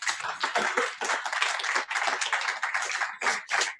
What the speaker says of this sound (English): So I think we should give a round of applause.